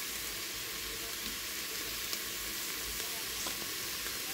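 Potato curry being stirred in a pot, a steady low sizzle with faint scraping of the spoon, close and continuous with no talk.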